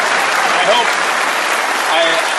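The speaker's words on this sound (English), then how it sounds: "I hope that applause is for my mom." A television studio audience claps in a dense, steady wash of applause, with faint voices mixed in.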